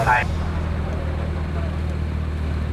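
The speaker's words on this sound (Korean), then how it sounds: "엔진 소리가 양우람 드라이버의 심장 박동 소리처럼 들립니다" A MINI car idles on a race circuit, a steady low engine drone with a brief higher noise at the start.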